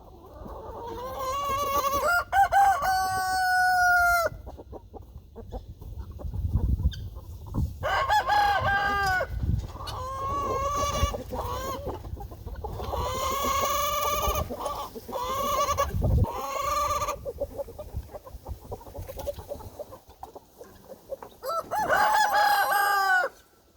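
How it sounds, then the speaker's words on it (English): Fighting roosters crow loudly again and again, with clucking and scuffling noises between the calls. "You got chicken fight, rooster fight."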